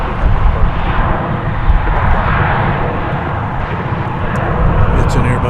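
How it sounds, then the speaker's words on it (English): An American Airlines Airbus A321 airliner at DFW Airport near runway 36 gives a steady, loud, broadband engine roar that holds throughout, with a voice talking over it. "It's an Airbus A321."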